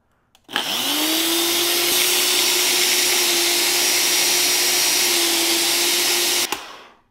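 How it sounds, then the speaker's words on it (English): A Ninja juicer on a kitchen counter whirs at a loud, steady pitch, around 95 decibels, for about six seconds, spinning up at the start and cutting off abruptly. "We will start with our Ninja Juicer, whatever this thing is called."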